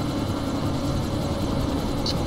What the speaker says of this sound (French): Je vais m'occuper de l'hélicoptère.